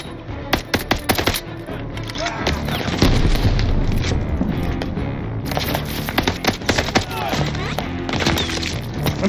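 A grenade blast and bursts of gunfire in Call of Duty Vanguard, a loud boom midway amid rapid crackling shots and debris clatter, with voices talking over the combat.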